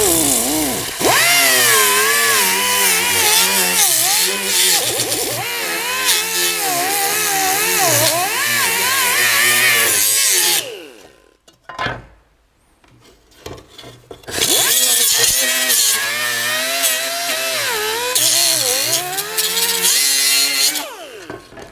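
A power tool roughens the aluminum surface of a cracked Lotus Elise clamshell. It gives a loud, continuous abrasive whine with a brief drop in the middle before resuming, heard close up.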